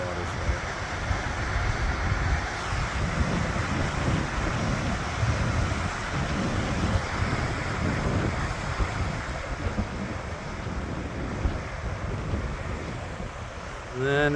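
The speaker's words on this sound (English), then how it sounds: "seeing this beautiful waterfall, water's flowing nicely out of" Spring runoff at Marshall Creek waterfall in British Columbia: a steady, full roar of falling water that runs without a break, mixed with wind rumble on the microphone.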